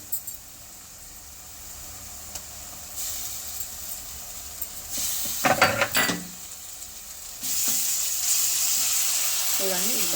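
Spring onion greens frying in a pan for a fish egg fry, a soft sizzle with a louder burst of clatter and stirring midway, then a steadier hiss toward the end.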